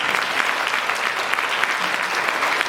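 Guests at a wedding banquet applaud in a dense, steady burst of clapping from a close crowd, lasting a few seconds without pause.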